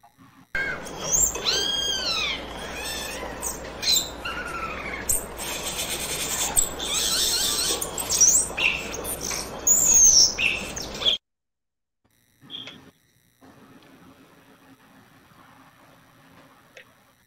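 Radio show segment intro jingle for a bird-themed column: bright chirping, meow-like calls and tweets over a dense bed, cutting off abruptly into near silence with a few faint clicks.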